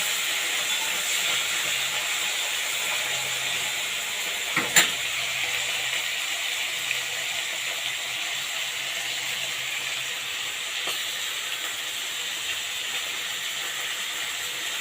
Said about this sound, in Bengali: এগুলো প্রায় ভাজা হয়েই গেছে